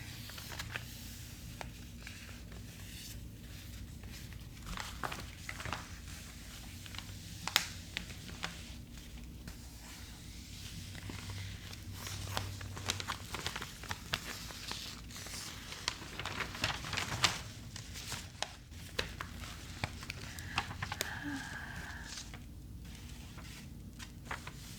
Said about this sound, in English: It's the sound of someone flipping through the newspaper.